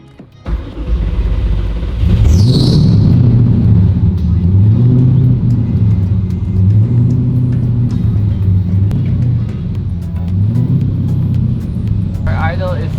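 A rebuilt RWB car engine idles high with a steady close rumble, its pitch rising and falling slowly in waves, while people talk over it.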